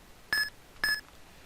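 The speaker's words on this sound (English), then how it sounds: "So you're going to soft reset when Eon Timer counts down from 5." Two short electronic timer beeps about half a second apart, counting down before a soft reset of Pokemon Ruby/Sapphire; clean, moderately loud tones with no talk.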